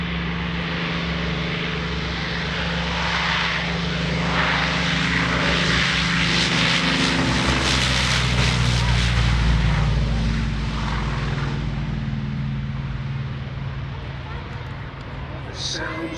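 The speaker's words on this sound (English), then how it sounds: "Here comes John Currenti in the Corsair" A Corsair propeller fighter plane roars past at the 2018 Greenwood Lake Airshow, its engine drone building to a loud peak overhead and then fading into the distance.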